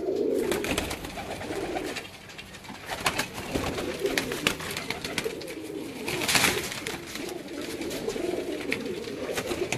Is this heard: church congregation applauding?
no